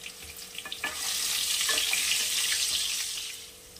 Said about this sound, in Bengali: আগে ভেজে নেব আলুগুলো